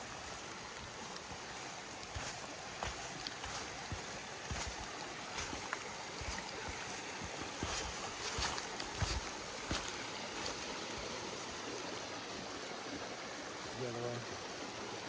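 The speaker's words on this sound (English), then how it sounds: "It's a beautiful creek." A flowing creek along the Appalachian Trail gives a steady, soft rush of water throughout, fairly faint and even, with a few light knocks and rustles over it.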